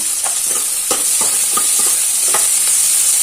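Boiled sweet pumpkin pieces are mashed in a pan: a series of soft, irregular knocks and scrapes from the utensil, close, over a constant bright hiss, with no voices.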